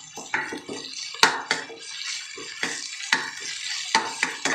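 Ginger garlic paste hitting a hot pan for mushroom manchurian, with bursts of sizzling and spluttering, a sharp clink of a spoon against the pan, and repeated stirring scrapes at close range.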